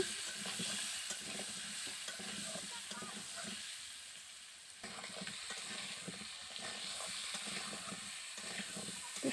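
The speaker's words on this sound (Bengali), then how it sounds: "আলুগুলো দেওয়া হয়ে গেছে এবার ভালো করে একটু নেড়ে চেড়ে নেব" Potatoes frying in hot oil in a pan while being stirred, a continuous close sizzle with scraping and stirring noises, fairly quiet, with no talk.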